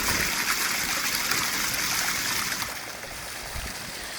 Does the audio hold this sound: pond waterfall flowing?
yes